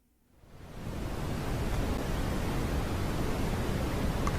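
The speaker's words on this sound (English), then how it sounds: "More white noise." Steady broadband white noise from a solar system sound recording fades in over the first second and then holds constant and full, with no other sounds and no voices.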